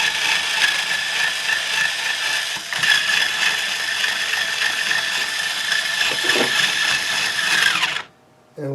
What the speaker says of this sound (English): with my Ernie Ball power peg quill, let's loosen the strings